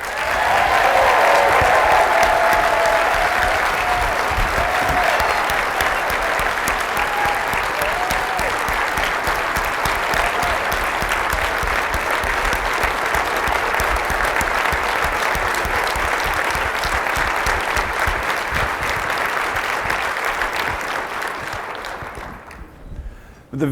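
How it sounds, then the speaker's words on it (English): A large audience gives sustained, dense applause at a morning company gathering. The clapping stays steady and loud for over twenty seconds, then cuts off abruptly at the end. "Let's have one huge round of applause for Dad."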